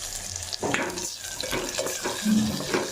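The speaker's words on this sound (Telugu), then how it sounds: "చూడండి ఇక్కడ పోపు అయితే చాలా బాగా ఆనియన్స్ అనేది చాలా బాగా ఫ్రై అవుతాయి" Onions fry in hot tempering oil with curry leaves for cowpea dal, a close sizzling hiss broken by scraping stirs of a spoon against the pan.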